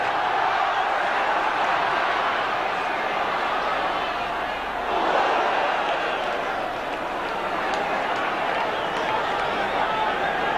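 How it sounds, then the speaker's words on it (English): Derby football crowd at a 1975/76 league match against Leeds, a dense, continuous roar of massed voices holding steady with a slight swell near the middle. "Listen to this Derby crowd as the players ask for the 10 yards from the defender."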